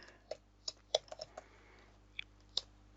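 Typing on a computer keyboard, quiet close-up clicks that come in small irregular bursts of separate keystrokes against a soft hum.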